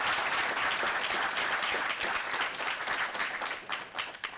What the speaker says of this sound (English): join me in an applause for these candidates